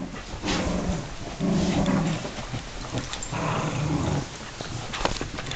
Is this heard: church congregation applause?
no